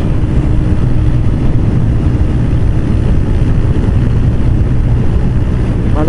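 A Honda CBR125R motorcycle cruising at a steady 100 km/h makes a loud, continuous engine drone mixed with rushing wind roar, unchanging throughout with no talk.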